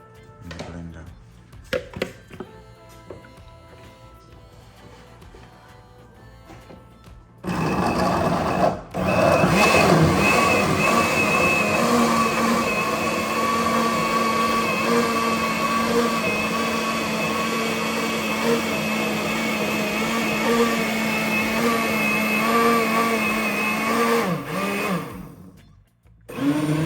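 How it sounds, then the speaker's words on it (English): A blender blending mango and carrot whirs loudly and steadily for most of the clip after some quieter clattering and voices, then cuts off near the end. "It's mango and carrot in the blender."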